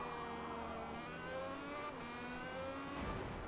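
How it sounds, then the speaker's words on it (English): Engine of an IndyCar in a racing video game bouncing off the rev limiter on Sunset Peninsula, a steady loud whining drone with stuttering harmonic pitch steps, continuous and close throughout. "Hear that car bouncing off the rev limiter."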